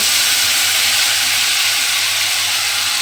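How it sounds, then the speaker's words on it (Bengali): Spice paste hits hot oil left from frying brinjal, a loud, steady, close sizzle that holds without a break for the whole stretch, with no voices over it. "তেলের মধ্যে মশলাটা দিয়ে দিলাম।"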